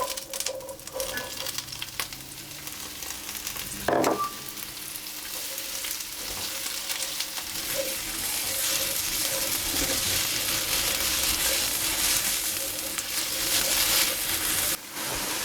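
Courgettes fry in a pan for a ratatouille, a steady close sizzle that builds and stays loud throughout, with one sharp clack early on and a few faint clinks.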